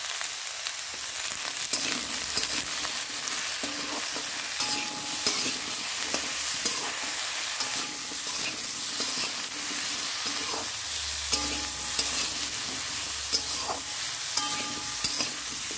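Potatoes sizzle steadily in hot oil in a pan while a spatula stirs them, with continuous close frying hiss and frequent scraping clinks against the pan throughout.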